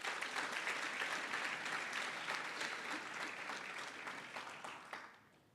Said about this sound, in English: Colleagues, can you give the two presenters a round of applause?